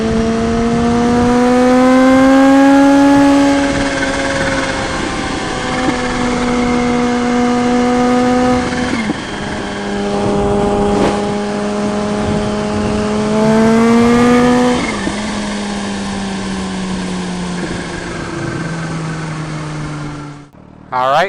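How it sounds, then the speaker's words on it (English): A 2020 Kawasaki Z H2 supercharged streetfighter motorcycle revving hard on the road, its engine note climbing and dropping through repeated long pulls, loud and close with supercharger whine and wind rush, no talk over it. "Listen to this supercharger."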